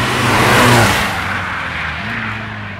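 A rally car at the Falperra rally accelerates past at close range, a loud engine note swelling then easing away as it passes, with a steady rumble lingering behind; no talking.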